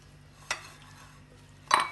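A pasta slaw salad dressed with lemon juice and salt is stirred in a bowl, giving two short clinks of a utensil against the dish in an otherwise quiet room.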